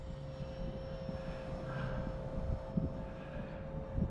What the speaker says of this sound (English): Perfect hand launch little jet.